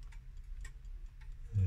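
A Zenith pendulum clock ticks quietly and steadily, with a few evenly spaced ticks heard alone in a hushed room, ending with a brief low thump.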